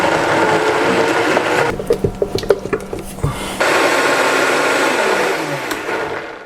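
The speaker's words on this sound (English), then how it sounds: "Now we're going to blend this mixture until it's smooth and creamy." A blender motor whirs loudly and steadily as it purees an oat and nutmeg granola mixture, stops for a couple of seconds of light tapping and knocking, then roars back up and runs until the end.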